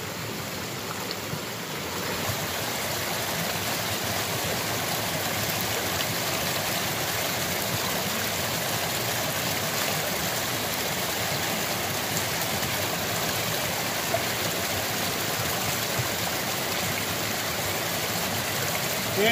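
Stream of sulfury water at a gold deposit site flows continuously as a steady broadband rush and babble, moderately loud and unchanging throughout, with no voices.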